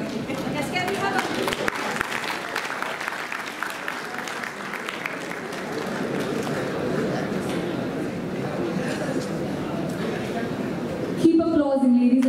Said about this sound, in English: Keep applauding, ladies and gentlemen.